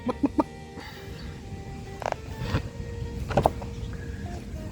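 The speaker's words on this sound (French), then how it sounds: "le chicken, le poulet" Chickens cluck at a market in Cambodia, a few short scattered clucks over steady background hum and faint traffic noise, moderately close.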